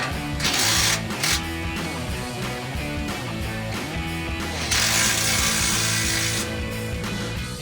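A ratchet tightens the bolts of ARB skid plates under a 2021-2024 Ford Bronco, with rapid rhythmic clicking and mechanical rattling, loud and close, in uneven bursts.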